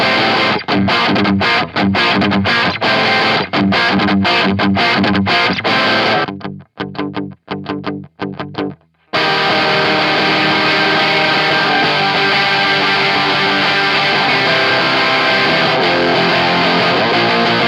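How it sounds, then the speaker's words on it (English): An electric guitar plays through The Color Box overdrive pedal, loud, heavily distorted strummed chords and riffs with short choppy stops, then a brief gap and a sustained, saturated wall of sound. "now we're going to check out some distortion sounds"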